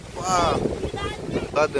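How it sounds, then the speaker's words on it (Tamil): Wind buffets the microphone in a low, rumbling roar while a person talks over it, during a night storm with heavy rain in Mullaitivu, Sri Lanka. "அம்மா சூறாவளி மாதிரி அடிக்குது காற்று"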